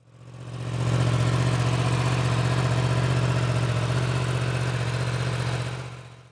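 A Yamaha R1 sport bike's inline-four engine idles steadily, a deep, even rumble with a V-twin-like character that fades in, holds at a constant level throughout, and tails off at the end, with no talking.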